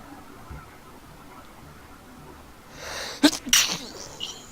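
A single sharp sneeze bursts out near the mic during a tabletop Dungeons & Dragons game session, preceded by a brief inhaling build-up and followed by a softer second burst.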